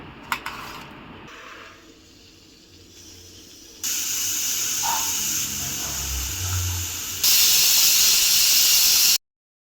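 A kitchen pressure cooker releasing steam during home cooking of a chickpea curry, heard as a steady loud hiss that steps up in intensity twice and then cuts off abruptly.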